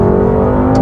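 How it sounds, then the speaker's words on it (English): A BMW M850i xDrive's V8 holds a loud, close, steady engine tone with strong harmonic hum through a brief downshift moment. "But that V8 sounds amazing. Listen to the down change."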